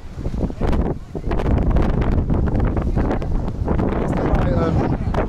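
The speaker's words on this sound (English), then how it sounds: "Strong wind." Strong wind blowing at a cricket stadium in Pakistan, loud continuous roaring gusts buffeting the microphone, with people talking under it.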